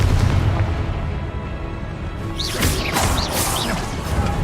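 A Confringo blasting spell in the Hogwarts Legacy video game sets off loud, crashing explosive bursts over a thick rumbling backdrop, with several sharp fiery hits in quick succession.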